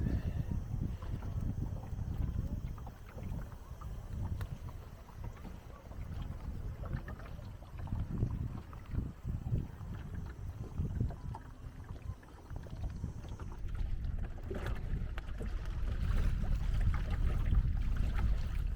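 Steady rushing of wind and water around a sailboat sailing round a small island in the Mar Menor, with occasional splashes and creaks, fairly loud and continuous throughout.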